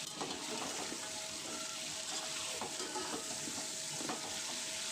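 Chicken, a little over a kilo, fries in a pot ahead of a desi chicken curry, a continuous wet sizzle and bubbling with light stirring clatters throughout, close and fairly even, without any voice.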